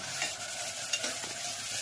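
A steady, close sizzle of spices hitting hot oil, with a few sharp crackles and pops rising above the hiss.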